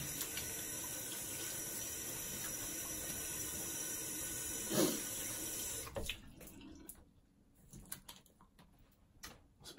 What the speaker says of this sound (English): Get some cold water here.